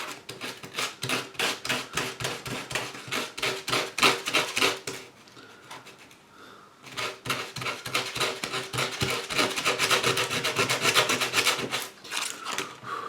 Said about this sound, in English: So I'm just sandpapering this washer off.